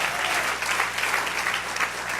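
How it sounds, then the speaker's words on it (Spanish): A church congregation breaks into dense, steady applause during a Sunday sermon, a full, continuous wash of many hands clapping at close range without speech. "Dale un aplauso al Señor."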